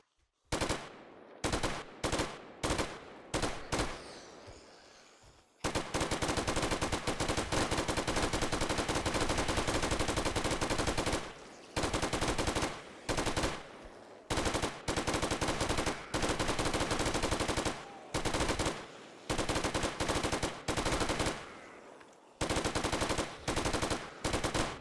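Automatic and rapid gunfire in the video game 7 Days To Die with the Escape From Tarkov mod: short choppy bursts at first, then a long sustained stretch of loud continuous shooting broken by brief pauses and further bursts.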